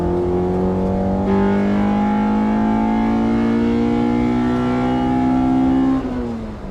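A B18C-swapped 2000 Honda Civic Si engine revs hard while driving, pitch climbing steadily through a long pull, then dropping off as the throttle lifts; loud and close, with no talking.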